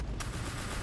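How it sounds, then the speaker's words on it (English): A loud lava cannon fires in a video game, a single dense broadband blast that fills the moment with roaring noise and gives no gap or decay. "They're very loud guns."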